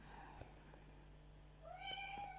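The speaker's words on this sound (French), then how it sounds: "voilà mon chat qui vient venir nous raconter ses petits malheurs" A house cat gives a single quiet, drawn-out meow near the end, faint against a steady low room hum, with a few soft taps before it.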